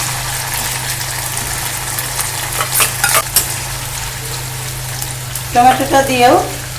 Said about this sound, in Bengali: টমেটো পেস্টটা দিয়েও কিন্তু সুন্দর করে আমরা কষে নেব তেলের সঙ্গে।